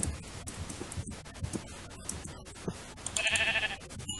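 Blocky video-game sheep in Minecraft give a short burst of bleating near the end, over scattered game sound effects and clicks.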